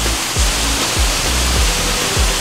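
Waterfall spring water pours steadily with a full, rushing splash, accompanied by regular low thumps roughly every half second.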